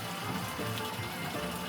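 Tap water runs steadily into survival water storage containers, a continuous broadband rush of filling liquid at moderate, even loudness with no voices.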